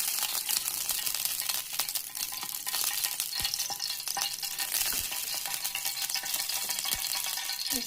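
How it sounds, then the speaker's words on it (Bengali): Close, loud, continuous sizzle of a garlic, ginger and cumin paste frying in hot oil in a wok, with scattered scrapes and taps as it is stirred and no talking. "পেস্টটা একটু ভাজি ভাজি করে নিলাম, তারপরে আবার মশলা দিয়ে দিলাম।"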